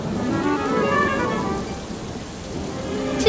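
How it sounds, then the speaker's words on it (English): Heavy cartoon rainstorm with steady hissing rainfall and a low rumble of thunder, with no voices. "Today is a day of heavy rain"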